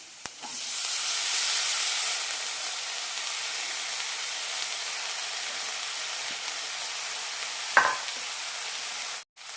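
Vegetables stirred and fried in a hot pan with chili powder, garam masala and turmeric for bread samosa filling: a loud, steady sizzle throughout, with a brief scrape near the end.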